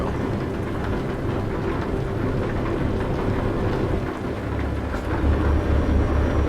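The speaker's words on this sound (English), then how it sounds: "it's pouring down rain." Steady, dense rain roars without pause in the game Euro Truck Simulator 2, with a low rumbling truck undertone throughout and a slightly heavier, deeper rumble near the end.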